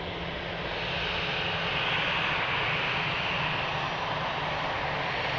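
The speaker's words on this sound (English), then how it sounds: "Beautiful 787." A Boeing 787 airliner at Lisbon Airport roars steadily with a broad, loud jet-engine rush that holds throughout and swells slightly midway.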